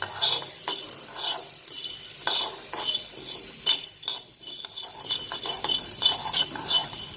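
A spoon stirs tomato soup around a metal pot off the heat, scraping and clinking against the sides in uneven strokes, close and fairly loud.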